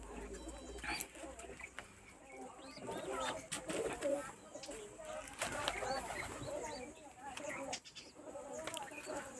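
Mini pigeons cooing inside a home loft with breeding boxes, many soft overlapping coos close by and steady throughout while someone talks over them.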